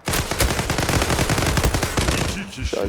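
Rapid sustained automatic fire from an FN FAL Pro rifle in the online shooter Zula, a dense continuous burst of loud close shots lasting most of the clip before tapering off.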